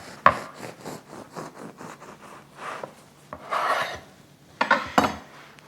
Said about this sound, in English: So let's cut into it and see how it looks.